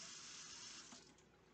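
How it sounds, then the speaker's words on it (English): Tap water runs steadily into a kitchen sink, a soft, even rushing hiss that fades slightly toward the end. "not gonna worry about the water in the sink right now"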